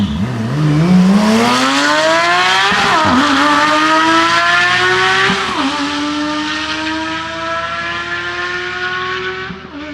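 A Corvette Z06 drag car roars off the line with a loud, rising engine howl, its pitch climbing through gear changes with brief dips around the shifts, staying strong and close for the full run.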